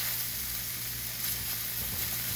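Meat sizzles steadily in a pan, a dense continuous hiss with faint scraping as a spatula breaks it up, close and fairly quiet, no voices.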